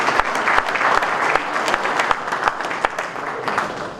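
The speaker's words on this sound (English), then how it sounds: "If I could have a warm round of applause for all these individuals and corporations for their support of Events Action." A warm round of applause at a Met PGA spring meeting, with steady clapping from a roomful of people and scattered sharper claps over about four seconds.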